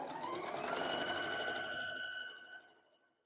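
A sewing machine runs steadily while chain piecing quilt pieces, a close whirring hum that holds for about two seconds before slowing and fading out.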